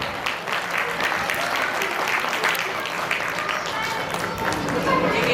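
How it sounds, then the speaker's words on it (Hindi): Schoolchildren and a crowd at a school arts festival giving loud, sustained applause, a dense wash of clapping with chatter and voices mixed in throughout. "इनके लिए जोरदार तालियां।"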